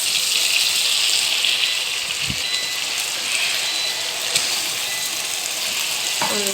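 Egg hitting a hot pan for native fried rice, a loud steady sizzle and hiss of frying close up, with a couple of faint knocks against the pan, no talking.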